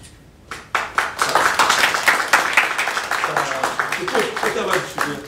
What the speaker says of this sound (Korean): 자, 박수 드립니다.